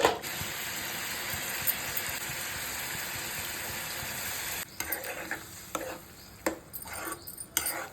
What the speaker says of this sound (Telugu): గుడ్లు వేసుకుందాం ఇప్పుడు